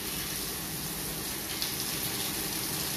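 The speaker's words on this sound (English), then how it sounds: "You'll be able to see all the acid coming out of the plate chiller." Acid cleaning solution gushes steadily out of a beer plate chiller in a brewery, a constant loud rushing flow with no break and no voices.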